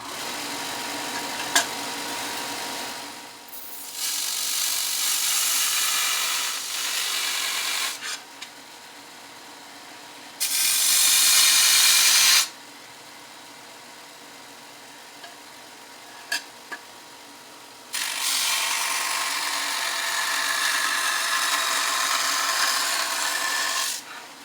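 Bauer 4x36-inch bench belt sander grinding the corner of a 3mm steel scrap, heard as several loud broadband bursts of abrasive grinding separated by quieter motor running, with no talking.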